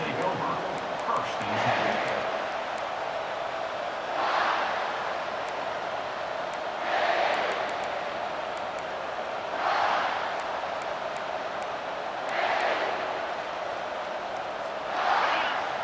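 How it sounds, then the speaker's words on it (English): A steady roar of a large football stadium crowd fills the background, swelling in periodic waves, with a voice talking over it throughout. "This crowd bringing the energy and noise early"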